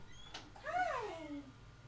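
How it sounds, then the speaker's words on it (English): A house cat meows once at close range, a rising and falling cry lasting under a second, heard indoors over a quiet room with a brief rustle just before it. "Oh, do I hear a kitty?"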